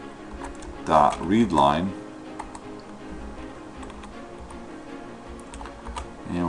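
Computer keyboard keys click steadily while C# code is written in Visual Studio 2010, with a voice talking over the typing near the start and the tapping continuing alone afterward.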